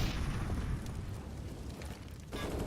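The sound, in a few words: grenade explosion in CS:GO video game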